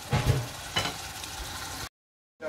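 Boal (wels catfish) cooking in a pan for dopiaza, a Bangladeshi home-kitchen dish, with a steady soft sizzle and a couple of louder stirring scrapes, then the sound cuts to silence before resuming briefly.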